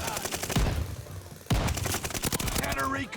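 The Automaton rifle fires in Call of Duty: Vanguard multiplayer, loud rapid bursts of gunfire in two strings split by a short pause, with faint game sounds in between.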